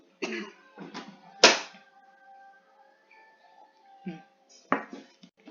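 A person coughs during a live online tutorial session, giving one loud, sharp burst near the middle. Softer throat-clearing bursts come before and after it in an otherwise quiet room.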